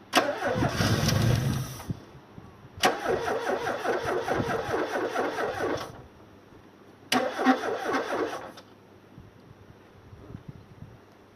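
A 1979 Porsche 924 engine cranks in three separate bursts, each a few seconds long with rapid churning starter noise, separated by brief pauses, loud and close.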